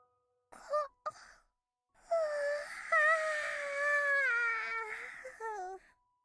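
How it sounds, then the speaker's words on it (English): A long, drawn-out vocal yawn sound effect from the Umineko visual novel, a short breathy onset followed by a sustained wavering moan that trails off at the end. "Oh, that's a yawn."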